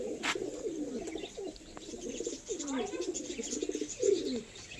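Madrasi pigeons cooing close by, a run of rolling throaty coos and burbles repeating in bursts, with soft clicks and faint background hiss.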